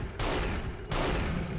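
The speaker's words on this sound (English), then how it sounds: "He's shooting a spider with a sniper rifle." Sniper rifle fire in the retro first-person shooter Unreal Gold, aimed at a spider: two loud, close synthetic shots about 0.7 seconds apart, each a sharp broadband blast with a sustained noisy tail, no talking.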